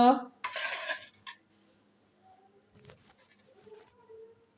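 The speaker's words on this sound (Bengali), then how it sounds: "একটু সেমাই বেড়ে নিচ্ছি মোহনার জন্য" Semai vermicelli being served into a dish, with close clinks and scrapes of a utensil against crockery in the opening second or so, then quieter scattered taps and small clatters.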